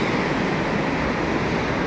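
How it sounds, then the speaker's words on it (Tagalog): Continuous wash of ocean surf at Manukan beach at low tide, a steady broadband roar with no distinct breaks, mixed with wind. "Kung mapapansin nyo, ang alon nanggagaling sa west"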